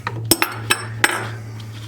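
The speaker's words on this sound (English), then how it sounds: "We're just going to take a little crescent wrench" A crescent wrench works a nut loose on a clock, giving a handful of bright metallic clinks and taps over about two seconds against a low steady hum, no voices.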